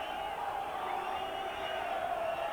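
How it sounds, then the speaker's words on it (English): A football stadium crowd during injury time of a Swindon Town versus Leeds United match whistles in a sustained, shrill wash, steady and unbroken, heard from a distance with a faint crowd murmur beneath. "it's the crowd who are whistling, who want their game to end"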